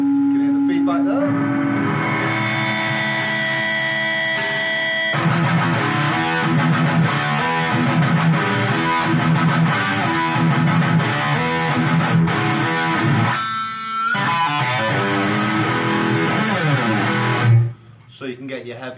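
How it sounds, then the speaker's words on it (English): An electric guitar through a Blackstar ID:CORE Stereo 20 V3 amp on the overdrive channel with high gain rings out heavy and distorted, chords sustaining into squealing feedback before cutting off near the end. "Can you hear the feedback there?"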